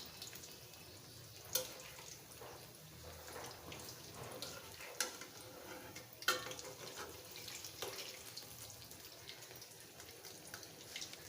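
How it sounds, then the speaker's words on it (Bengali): Bottle gourd chops frying in hot oil give a steady low sizzle and crackle, with a few sharp clinks and spatters standing out over the continuous frying noise. "সবগুলো চপই ভেজে নেব।"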